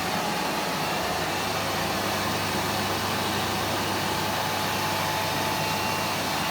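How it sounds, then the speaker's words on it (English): Carpet cleaning machine running steadily over a carpet runner, a loud continuous motor and suction roar with a faint tonal whine, unbroken and close throughout. "going nice and slow with the machine, which is, as I said, is enabling a deep and thorough clean of this carpet"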